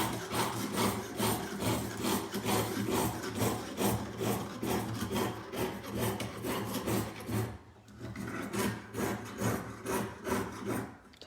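A jeweler's piercing saw cuts a shape out of metal, its fine blade rasping up and down in a steady, rapid rhythm of close, gritty strokes that pause briefly before resuming.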